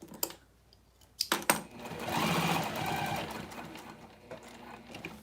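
Sewing machine stitching 100% polyester fabric, with a few short bursts and then a steady, continuous run of close, fairly loud mechanical whirring.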